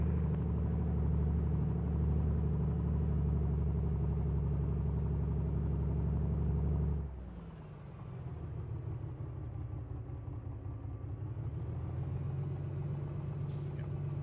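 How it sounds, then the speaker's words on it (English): A Piper Comanche's piston engine drones loudly at a steady pitch on the runway, then the tone drops and shifts partway through as power changes for the takeoff roll, continuing strong without talk. "Comanche 91 Papa Charlie, lining up runway 34 and taking off, straight out departure"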